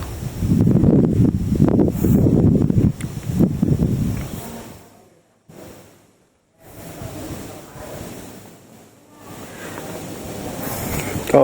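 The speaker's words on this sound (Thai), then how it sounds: "ลมมันแรงนะวันนี้ลมแรงมาก" Strong wind gusts through trees at Khao Thalu Mitti in Chom Bueng, Ratchaburi, a loud roaring rush with heavy buffeting of the microphone that drops almost to silence midway before building back up.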